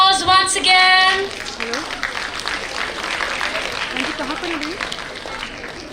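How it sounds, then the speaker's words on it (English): A literary event audience breaks into applause, steady clapping that carries on for several seconds at moderate level, with a brief tonal sound at the start and a voice talking over it. "A huge round of applause once again"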